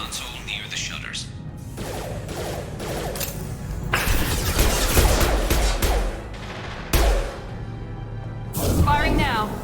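Gunfire in the video game Paragon, Insanity difficulty in Classic Mode: loud, rapid fusillades of shots in several bursts, with mechanical clatter between volleys.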